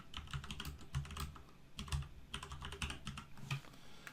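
Computer keyboard keys tapped while entering a heading in a Word document, giving quiet, steady clicking in quick irregular bursts with no voice over it.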